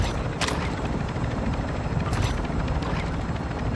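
A helicopter arriving at an extraction point in a video game, with a loud, dense, steady rotor roar that fills the scene, up close and continuous, with no talk.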